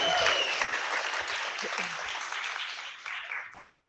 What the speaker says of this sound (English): if we could please give those agents a round of applause